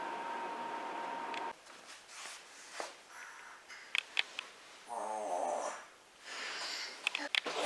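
Someone in a home imitates snoring with a brief rattling snort amid casual conversation, moderately close and set among other talking and small background noises.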